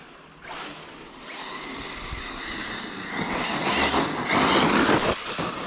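An Arrma Typhon 6s RC car run at full throttle during a morning bash, a loud sustained high-pitched motor whine with rushing, rumbling wheel and ground noise that swells toward the end.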